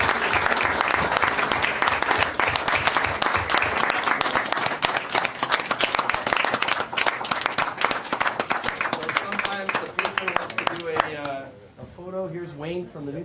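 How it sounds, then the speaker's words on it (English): Attendees at a council meeting give a sustained round of applause, loud and dense hand claps that carry on for about ten seconds before fading as voices take over. "So let's give them a round of applause"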